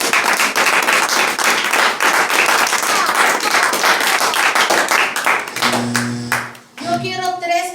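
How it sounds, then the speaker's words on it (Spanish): A church congregation claps loudly and steadily for several seconds, dense broadband applause that thins out near the end as voices and a held sung or spoken tone take over. "Yo quiero que tú le des un fuerte aplauso a Dios."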